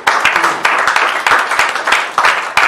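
Church congregation clapping in a loud, fairly rhythmic burst of many hands, close and continuous for a few seconds.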